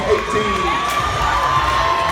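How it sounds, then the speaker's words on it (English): A crowd cheers and shouts with whoops at a high school varsity boys basketball championship game in a gym, loud and continuous, with a sustained whistle-like tone running through it. "Ladies and gentlemen, let's hear it for our 2017-18"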